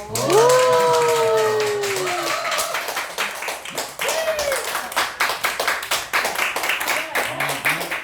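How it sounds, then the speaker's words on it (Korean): Family members clapping at a mother's eightieth birthday gathering after a letter is read aloud, a burst of hand claps that starts under a loud voice and continues as scattered, uneven claps. "박수."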